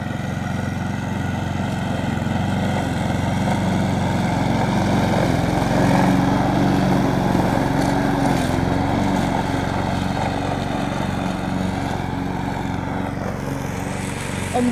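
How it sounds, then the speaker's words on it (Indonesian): A lawn mower engine drones steadily and loudly throughout, a continuous close motor hum with slight shifts in pitch as it works. "Serius potong rumput dia teman-teman."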